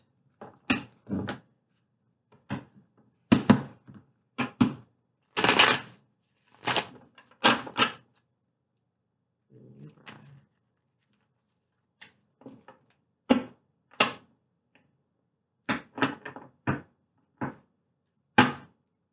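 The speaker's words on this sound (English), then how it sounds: "I had to get in some good shuffles." Tarot cards riffle and snap in short irregular bursts separated by silences, close and fairly loud, with softer handling sounds between.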